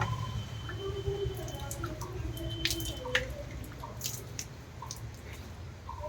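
Cold tap water splashes and drips during a bath, a wet, uneven patter with small squishy bursts over a low rumble, and a faint voice murmuring underneath.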